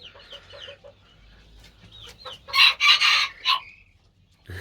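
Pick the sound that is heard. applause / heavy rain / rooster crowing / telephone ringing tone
rooster crowing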